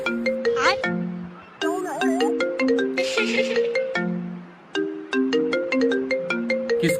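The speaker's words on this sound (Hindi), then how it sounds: "किसका फोन है, उठाना।" A loud phone ringtone plays a repeating electronic melody of bright tones, pausing briefly twice before starting again.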